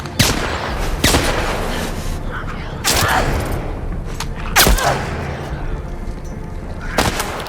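A thrown bomb bursts in The Last of Us Part 2 amid repeated sharp gunshots, loud close cracks spaced a second or two apart over a rumbling, noisy battle background.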